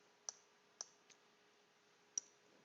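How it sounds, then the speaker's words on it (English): Keys on a calculator are pressed with a few faint, sharp clicks, spaced irregularly over quiet background. "And then just type this in the calculator."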